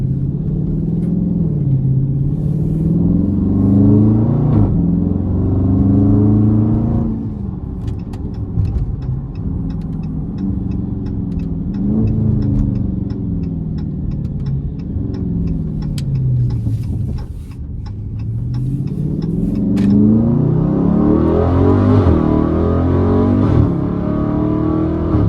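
A Dodge Scat Pack on rough Alabama backroads in track mode roars loudly and continuously, its engine rumbling deep with rising and falling revs through gear changes, close and dominant with no talking.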